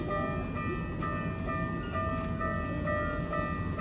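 A steady rumbling roar of a fast train passing in Tokyo, Japan, with faint tonal squeals and hums from the wheels and cars, continuous and fairly close.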